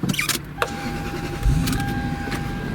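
After a few clicks and a short motor whir, a Lexus SC 430 convertible's engine fires up with a brief low thump and settles into a quiet, steady idle.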